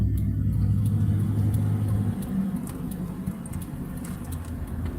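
A truck towing a trailer drives through the streets of a small town between Zittau and Löbau, its engine a steady low rumble that is loudest at first and then settles into a continuous hum, with no voices.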